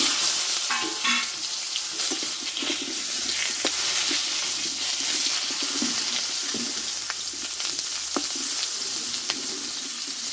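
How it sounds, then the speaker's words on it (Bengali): Cut potato pieces fry in oil in a pan, producing a continuous close sizzle punctuated by occasional sharp clicks and scraping stirs; no voices are heard. "আলুটা একটু কষে নেব আমি"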